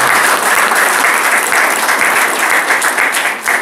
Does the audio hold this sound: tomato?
no